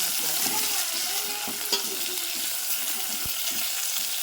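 Tomatoes fry with onions and green chilies in a pan, giving a steady sizzle with a few scraping stirs and light clinks, heard close up and without talk.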